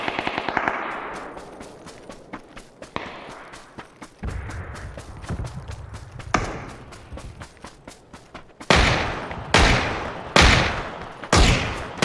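Bursts of gunfire from a PUBG match: sputtering distant automatic fire early on, then several loud, sharp close-range volleys in quick succession near the end, with rustling movement between.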